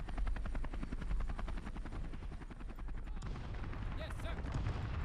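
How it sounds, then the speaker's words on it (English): A helicopter in the video game Men of War Assault Squad 2 churns with loud, rapid rotor chopping throughout, gunfire crackling over it and a faint voice briefly audible. "Get out the helicopter."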